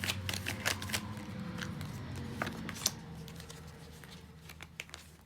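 Tarot cards are shuffled by hand up close, soft riffling and flicking bursts that fade into quieter card handling, with no talking.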